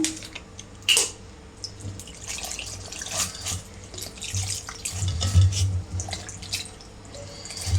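Tamarind water is poured in while cooking a bottle gourd dal rasam, a steady splashing trickle with scattered drips that carries on alone throughout.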